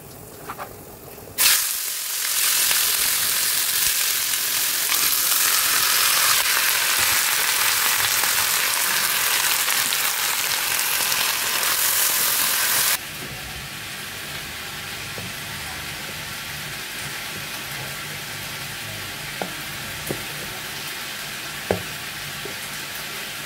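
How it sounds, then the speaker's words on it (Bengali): Thick-cut potatoes with onion hit a hot pan and fry with a loud, steady sizzle for about ten seconds, then settle to a softer continuous crackle with occasional faint clinks. "এই যে মোটা মোটা করে আলু কেটে নিয়েছি, পেঁয়াজ দিয়ে ভাজা করব"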